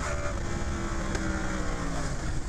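A motorcycle engine roars loud and close while riding, its pitch holding and shifting slightly, a continuous droning growl with rushing wind.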